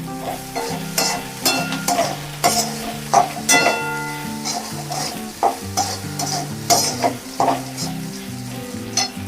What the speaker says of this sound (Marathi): पोहे अधून मग हलवत राहायचे म्हणजे ते कडक नाही होणार